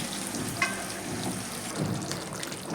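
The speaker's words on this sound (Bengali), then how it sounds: "এবার আমি অল্প করে একটু জল দিয়ে দিচ্ছি" Water is poured into a pan of frying cauliflower and potato curry, a steady sizzle and bubbling hiss close by with faint stirring clinks, no talk.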